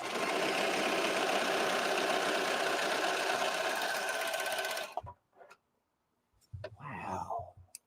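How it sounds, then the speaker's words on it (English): A serger overlock sewing machine runs loud and steady for about five seconds, then stops abruptly, followed by brief quieter handling noises and a short burst of talk-like sound. "It takes a little bit more time, but I like using the serger."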